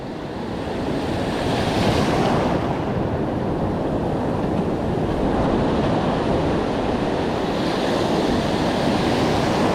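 Ocean surf breaking on the beach at Lacanau, a steady roar of waves with wind buffeting the microphone, swelling and easing over about ten seconds, no voices.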